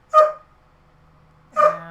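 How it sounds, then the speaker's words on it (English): Pet dog barking indoors, two sharp single barks about a second and a half apart, fairly close and loud, with quiet between. "that would be why my dog is going crazy"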